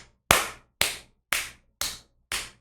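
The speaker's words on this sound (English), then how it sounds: "Everybody clap it up for Van Jones." Five loud, evenly spaced single claps ring out about half a second apart, each a sharp slap with a short fading tail and silence between, as clapping for Van Jones.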